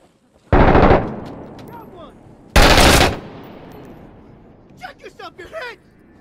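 Two loud, sustained bursts of automatic rifle fire from the shooter game Six Days in Fallujah crash out close by, each lasting about half a second, followed by quieter scattered pops and brief voices.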